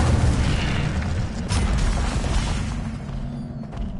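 Incendio fire spell cast in Hogwarts Legacy, a loud booming fiery blast with a rushing roar that fades over a few seconds.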